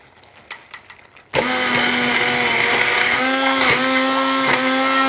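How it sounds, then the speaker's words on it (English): A blender starts abruptly and runs loud and steady, whirring as it purées a green vegetable soup of peas, cavolo nero, butter beans, cannellini beans, stock and garlic, with slight pitch dips as the load shifts. "I'm going to blend the rest"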